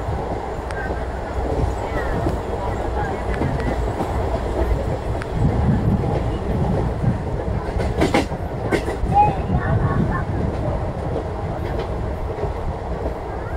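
The Narasapur express train rolls at speed past a station, a steady loud rumble of wheels and carriages with a few sharp clicks and rattles over the track joints, heard from on board.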